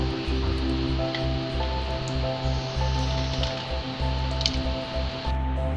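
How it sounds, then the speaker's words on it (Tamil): Wet, squishy plops and drips of ground masala paste go into mutton leg soup in a pressure cooker, close and moderately loud over a steady hum with background music. "இப்போ நம்ம அரைச்சி வச்சுருந்த இந்த மசாலாவை சேர்த்துக்கலாம்."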